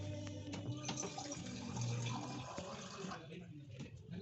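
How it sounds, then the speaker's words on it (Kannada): Water runs and splashes steadily into a container for a few seconds, fairly close, with faint clinks and a soft background hum. "ಇವಾಗ ಇದಕ್ಕೆ ಸ್ವಲ್ಪ ನೀರು ಹಾಕೊತೀನಿ ನಾನು."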